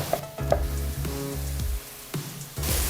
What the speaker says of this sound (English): I'm gonna add in a little bit of olive oil to the skillet, and I've got some onion, bell pepper, and celery.